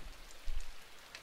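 Steady rain falling in the side-scrolling video game Inside, a soft continuous hiss of drops with faint low rumbles, brief and with no voices.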